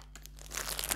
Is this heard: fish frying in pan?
no